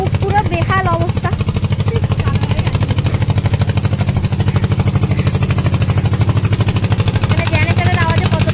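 A generator runs steadily near a riverside jetty lined with moored launches at Canning, on the way to the Sundarbans. Its loud, pulsing low engine drone fills the whole stretch, with a voice talking faintly over it.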